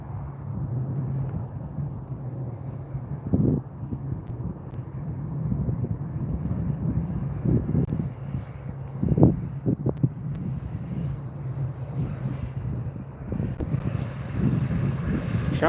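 A WestJet Boeing 787 jet taking off from Calgary Airport runway 35R, a steady low engine roar heard from a distance outdoors, with wind buffeting the microphone.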